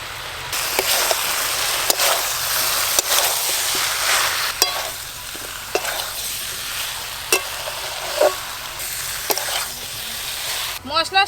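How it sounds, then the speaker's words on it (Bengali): Fried potato and jackfruit are stirred through a spice masala in a village kitchen, giving a steady close sizzle with sharp scraping and clinking strokes of the spatula at irregular intervals. "মশলার সঙ্গে আলু এঁচোড় ভালো করে কষে নিয়েছি"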